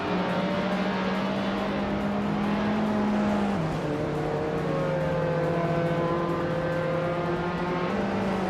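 Race car engines drone steadily in a racing video game, led by a 1979 Puma GTE. A sustained, even motor tone holds, then drops in pitch partway through as another engine note rises alongside it, continuous and fairly loud with no voices.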